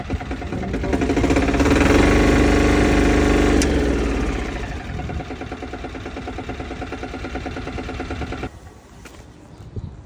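A 400 kg plate compactor's engine runs loud and near, settling from a higher roar into a steady chugging idle that drops sharply near the end.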